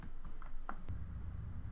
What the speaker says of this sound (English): To do this, press Ctrl+W on your keyboard at the same time.